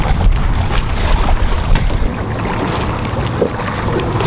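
Strong wind buffets the microphone in loud, rumbling gusts on a boat in Tampa Bay, with faint splashing of water beneath, continuous throughout and no talking.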